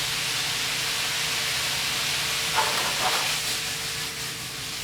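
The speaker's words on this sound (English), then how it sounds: "we're just going to allow this to stir fry our vegetables" Vegetables for beef yakisoba stir-fry in a hot pan, a continuous broad hiss of sizzling oil with a couple of faint stirring touches, steady and close, no talking.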